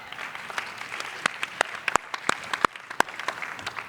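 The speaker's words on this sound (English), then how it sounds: "So round of applause for that." Conference audience applause, a dense patter of many hands clapping at a steady level, with a few sharper claps standing out near the microphone, moderately loud and without talk.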